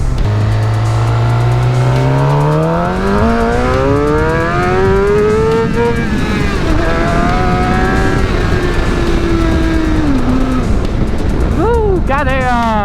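A Suzuki GSX-R750 motorcycle accelerates hard, lifting its front wheel. The engine climbs loudly through rising gear sweeps with an audible shift drop, then revs up sharply again near the end, heard up close with a voice over it.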